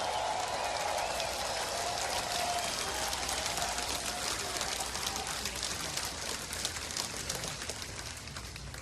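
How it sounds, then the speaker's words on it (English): A large crowd at a Donald Trump campaign rally in Green Bay, Wisconsin applauds for law enforcement, with dense, steady clapping that sounds like heavy rain and continues throughout. "let's give them a big round of applause"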